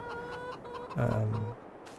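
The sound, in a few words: chickens clucking in Farming Simulator 22 video game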